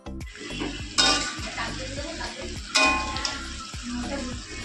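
Chicken in a red curry is sautéed in a pot, with a steady sizzle under two sharp metallic clanks of the spoon against the pan and lighter scraping strokes between them.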